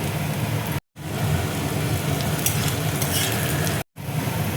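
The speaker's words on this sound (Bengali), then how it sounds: "পেঁয়াজটা দেখো হালকা গোলাপি করে আমি ভেজে নেব। এবার দেখো কাঁচা লঙ্কা কুচি আমি দিয়ে দিচ্ছি।" Chopped onions and green chilies frying in a pan give off a loud, continuous crackling sizzle with stirring noise, close to the ear. The sound drops out twice for a moment, and no one speaks.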